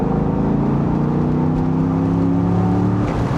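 Chevrolet Corvette C6 V8 pulls hard under acceleration, a steady throaty engine drone with rising harmonics, fairly subdued and continuous throughout with no talking.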